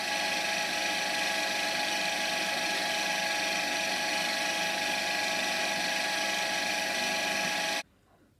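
Continuous power-tool cutting on a part for a tower clock frame, a loud, steady mechanical whine that runs unbroken for about eight seconds and then stops abruptly, leaving quiet.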